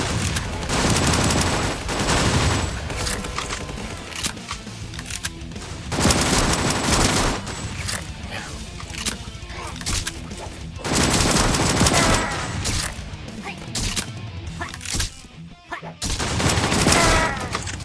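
Gunfire in the Roblox game The Undead Coming: loud, rapid automatic bursts that repeat in several long volleys, with short gaps between them, across the whole stretch.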